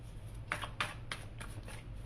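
Tarot cards being shuffled by hand, a few soft papery riffles and slaps close by over a steady low hum, with no talking.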